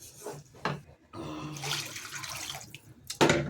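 Water splashes into a cooking pan holding an egg-omelette curry, arriving in a couple of uneven bursts that run for a few seconds, loud and close, with no voices.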